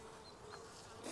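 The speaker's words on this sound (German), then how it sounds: "Drei Bienen tummeln sich drin." Bees buzz steadily inside a large pumpkin blossom in a garden, a continuous faint insect hum that lasts the whole moment with no voices.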